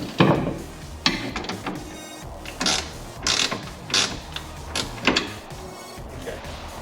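A ratchet on a 9/16 bolt clicks in a series of short, close pawl bursts, several quick strokes in uneven rhythm as the bolt is snugged up.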